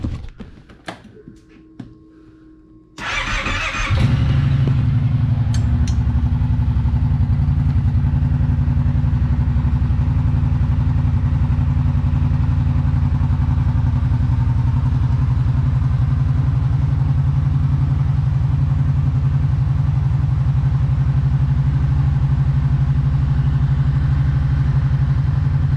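Kawasaki Brute Force 750 ATV on its stock exhaust: a few seconds of quiet handling noises, then the engine starts and settles into a loud, steady idle close by for the rest of the time.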